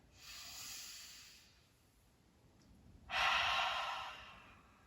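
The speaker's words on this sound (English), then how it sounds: "One more deep breath." Slow, deep breathing during a seated yoga session, a soft airy inhale followed by a stronger, louder exhale, close and hissy against a quiet background.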